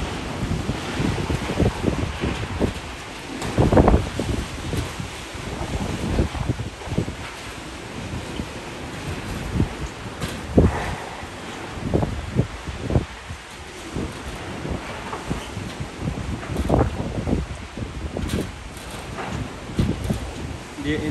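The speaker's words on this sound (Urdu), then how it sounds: "یہ انتہائی تیز ہوا اور گرد و غبار جو آپ دیکھ رہے ہیں" A violent windstorm whips through the Jandool and Samar Bagh area, carrying dust. Strong gusts roar and buffet the microphone without letup, rising into repeated loud bursts over a constant rushing background.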